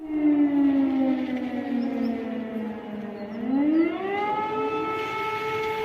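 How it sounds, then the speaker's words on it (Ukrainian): Air raid siren wailing over Voronezh, a loud, sustained civil defense tone that slowly falls in pitch, then rises again and holds steady, heard alone without talk. "у різних містах так званої Росії іще лунає повітряна тривога, наприклад, у Вороніжі"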